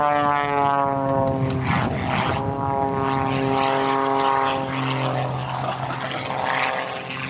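Aerobatic propeller plane flying a shoulder roll at a freestyle nationals competition, its engine droning steadily and loudly throughout with a shifting, rising-and-falling pitch as the aircraft maneuvers.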